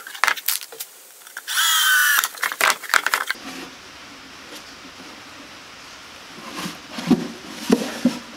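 A power drill drives screws into a wooden rabbit nesting box, with one sustained whirring burst plus scattered clicks and knocks of wood and hardware, followed by quieter handling noises.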